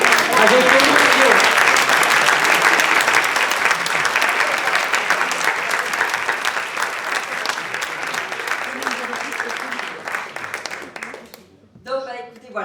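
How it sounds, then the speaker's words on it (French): An audience at a climbing event bursts into loud, sustained applause, with dense clapping that slowly thins out and fades near the end. "que j'applaudis avec émotion"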